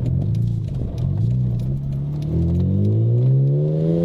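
A BMW Z4 M Coupe engine accelerates hard from close by, its tone climbing smoothly in pitch through a single gear with a steady, loud rumbling whir and no talk.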